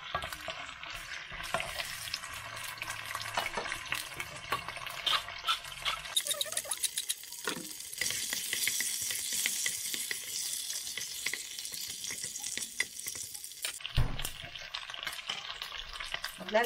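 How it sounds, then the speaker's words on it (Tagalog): Fish is stirred into tomatoes in a cooking pot for red sinigang, with a close, busy sizzle and wet spattering, scraping stirs, brief clanks and a couple of sharp knocks, no one talking. "Tapos ihalo natin yung ating isda."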